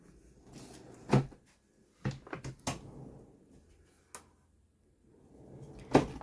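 Drawers in a 23-foot off-grid caravan being opened and shut, several sharp close knocks and sliding thumps spaced over a few seconds with quiet gaps between, no talk.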